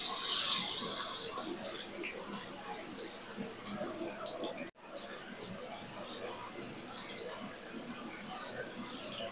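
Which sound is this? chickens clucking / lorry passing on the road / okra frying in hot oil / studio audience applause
okra frying in hot oil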